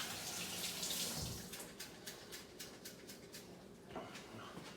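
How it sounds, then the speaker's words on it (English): Running tap water splashing while hands are washed at a sink in a barbecue kitchen, quiet and steady, with a few soft clinks and brief rubbing sounds. "wash my hands."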